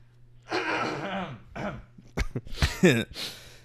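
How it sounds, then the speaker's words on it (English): A person clears their throat several times in short, rough bursts, interspersed with brief vocal noises, close and fairly quiet. "Sorry, I gotta clear my throat."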